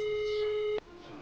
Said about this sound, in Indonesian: Itu suara HP lu yang bunyi.